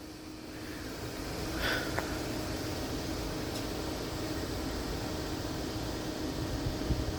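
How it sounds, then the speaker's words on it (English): Air brakes on a freight train release with a steady, even hiss of escaping air, moderately close, with one brief louder puff near the start and no voices. "I heard the air being released."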